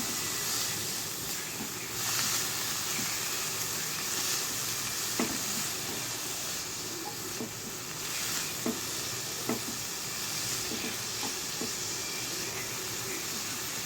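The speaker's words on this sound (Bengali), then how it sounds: "ভাজা ভাজা করে নিতে হবে" Carrot sizzles steadily in a hot pan, a constant bright hiss with occasional faint scrapes of stirring.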